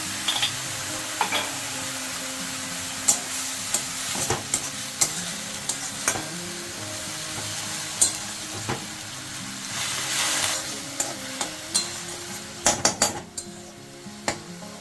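Brinjal and bori frying with turmeric and salt in a pan, a low steady sizzle punctuated by frequent sharp scrapes and clinks of a spatula stirring against the metal, irregular and close.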